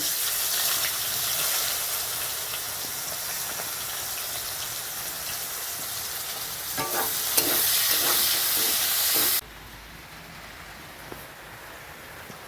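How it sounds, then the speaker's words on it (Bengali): Chopped onions sizzle and crackle loudly in hot oil left over from frying potatoes, a dense steady frying hiss with occasional stirring scrapes, dropping to a softer simmer near the end. "পেঁয়াজগুলো লাল করে ভাজা হয়ে গেছে"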